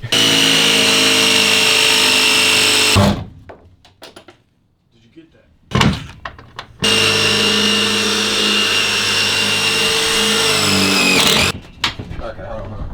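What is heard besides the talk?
drilling with a metal drill bit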